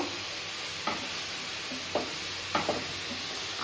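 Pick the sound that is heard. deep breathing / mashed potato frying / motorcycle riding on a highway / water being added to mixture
mashed potato frying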